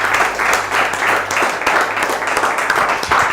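An audience applauds steadily at a live event, with dense, continuous clapping held at an even, fairly loud level throughout and a faint low hum beneath.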